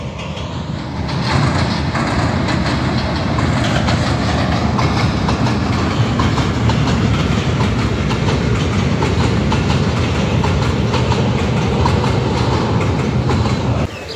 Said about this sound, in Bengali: মেবি ট্রেন আসতেছে, ঠিক আছে, মেবি ট্রেন আসতেছে